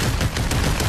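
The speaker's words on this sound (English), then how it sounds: "Gunfire." Rapid gunfire in the Population: One virtual reality battle royale, a dense burst of shots loud and close, rattling without pause.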